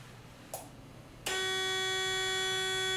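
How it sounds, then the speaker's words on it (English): After a short click, a loud, steady electronic start-up warning buzzer on a Thermo King SB-230 reefer refrigeration unit starts abruptly and holds at a constant pitch. "it's going to have a buzzer that's going to announce that the unit is about to start up"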